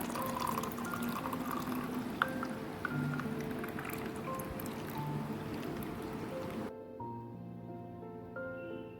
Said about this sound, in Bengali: ঠান্ডা জল অ্যাড করে দিলাম